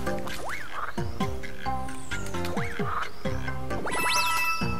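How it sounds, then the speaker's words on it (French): Mario, transformed into a frog in the Super Mario Odyssey video game, gives several bouncy, springy croaks over bright, plinking game music and chimes, with no talking. "Mario s'est champimorphosé en grenouille."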